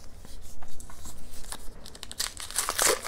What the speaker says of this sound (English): it is wrapped up in some paper and some tape